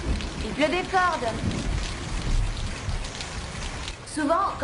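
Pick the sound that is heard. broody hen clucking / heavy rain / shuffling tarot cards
heavy rain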